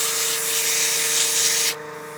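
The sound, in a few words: sanding a pen blank on a lathe with 220 grit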